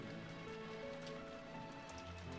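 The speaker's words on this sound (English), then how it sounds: "I couldn't help but look up at the sky of the cold rain, covering my face with droplets." Cold rain falls steadily in the video game Rose Guns Days, a constant dense patter of drops on surfaces beneath soft tonal background music, quiet and unbroken, with no talk.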